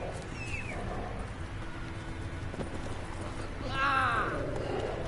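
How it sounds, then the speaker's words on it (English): Horse hooves clip-clopping at a gallop in The Witcher 3: Wild Hunt, steady and fairly soft, with voices and a brief whinny-like cry near the end. "horses in open world games are finicky"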